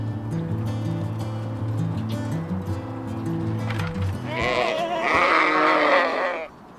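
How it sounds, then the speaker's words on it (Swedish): Sheep bleat nearby over a steady layer of low background music, first a few quieter calls and then a loud, wavering cluster of bleats near the end. "När fåren låter säger vi att de bräker."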